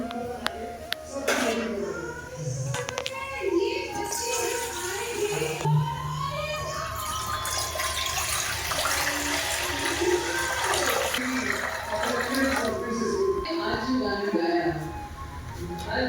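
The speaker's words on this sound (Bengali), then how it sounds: "কড়াইয়ের মধ্যে এবার জল দিয়ে দেব।" Water poured into a kadai on the stove to steam hilsa (ilish bhapa): a steady, close rushing pour with splashing and a few clanks of metal, running continuously for about sixteen seconds.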